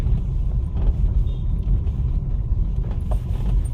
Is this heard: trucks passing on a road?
yes